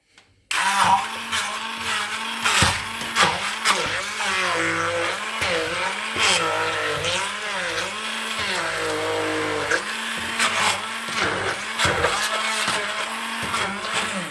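A Silvercrest SSM 350 A1 hand blender whirs loudly while blending apple, banana and mandarin, its motor pitch repeatedly dipping and rising in short pulses as it chops through the fruit.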